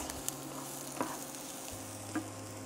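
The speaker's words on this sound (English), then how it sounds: "So now we're just going to saute this for about, let's say about 8 to 10 minutes." Burger ingredients sauteing in a pan, a steady soft sizzle with a few brief utensil taps, close and alone without talk.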